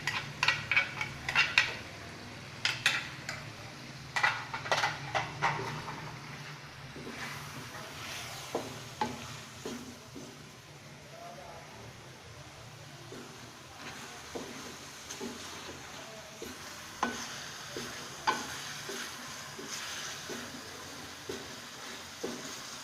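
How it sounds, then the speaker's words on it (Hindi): Light clinking and scraping of a spoon against a pan over a soft, steady sizzle of ginger garlic paste frying, with irregular taps throughout and no talking. "ये अब इसको मैं हल्का सा लाइट ब्राउन करूँगी और पकाऊँगी"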